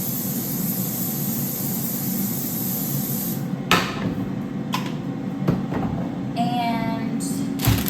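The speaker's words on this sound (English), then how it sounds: "So I'm just using some olive oil spray to spray the bottom." Olive oil cooking spray hissing steadily into the bottom of an air fryer, a continuous close spray for a few seconds that then stops, followed by light clicks and handling noises.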